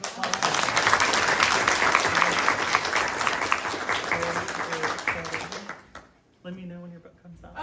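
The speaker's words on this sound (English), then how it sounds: "Can we give her a round of applause?" An audience at a poetry reading applauds the opening reader, a lively burst of many hands clapping with a few cheers that tapers off, and then a speaker's voice comes in near the end.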